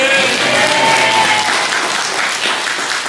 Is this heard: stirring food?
no